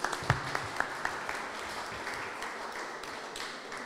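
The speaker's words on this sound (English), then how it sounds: "give them a round of applause." Applause from a crowd at an outdoor street-art mural event, a few sharper claps standing out early before settling into a steady, fairly quiet patter that continues throughout.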